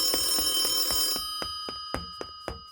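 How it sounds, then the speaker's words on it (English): A telephone bell rings in a fast metallic trill that stops, then a series of sharp, evenly spaced clicks or taps follows in the quieter remainder. "searching for a ringing phone that he really needs to answer"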